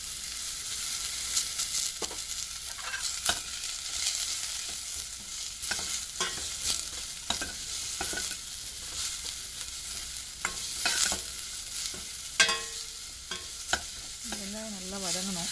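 Fennel seeds sauté in a stainless steel pan for spinach sambar, a continuous soft sizzle broken by scattered stirring taps and scrapes of a spoon against the pan, with no talk.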